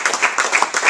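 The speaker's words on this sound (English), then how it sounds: "please get a round of applause" Short burst of audience clapping at a Drupal tech meetup, a handful of distinct claps in quick uneven succession.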